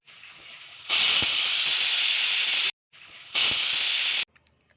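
Two loud bursts of hissing steam from a pressure cooker whistle, each building then cutting off sharply, with a brief pause between and faint clicks after.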